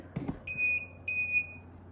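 A Ready-Lite self-diagnostic emergency light sounds its trouble alarm in two piercing electronic beeps, each lasting about a quarter second, loud and close after a brief knock.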